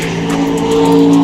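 A turbocharged Mustang drag race car accelerating, its engine a loud, steady high-pitched drone with a rising tone over about a second, close by with no talk.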